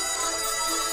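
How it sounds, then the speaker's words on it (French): A school lunch bell rings behind the gates of a primary school at noon, a bright continuous electric ring held for about a second. "la sonnerie du déjeuner"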